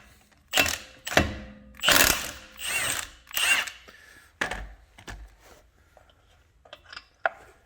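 An impact wrench takes 21 mm lug nuts off a 2013 Hyundai Elantra, loud, close rattling bursts of hammering, several in a row, followed by quieter clicks and a short final burst.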